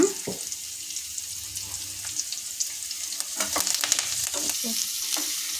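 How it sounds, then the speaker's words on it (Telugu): Onions, green chillies and curry leaves fry in a pan for a jackfruit seed curry, hissing steadily while a utensil stirs and scrapes in quick irregular bursts. "బ్రౌన్ కలర్లో వచ్చేదాకా మనం ఉల్లిపాయలు వేపుకోవాలండి."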